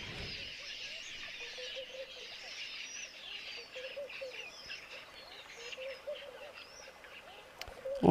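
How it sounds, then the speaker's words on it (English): Kori bustard calling in the wild near a herd of wildebeest, low soft repeated notes under a dense bed of chirping birdsong and faint ambient noise, fairly distant and quiet, with no talking. "that noise is from the Kori bustard."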